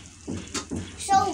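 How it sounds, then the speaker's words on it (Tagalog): Water is poured into a pot of Filipino sinigang soup in a home kitchen, making a short, close splashing rush while a voice speaks over it. "Ayan, dagdagan na lang ng tubig."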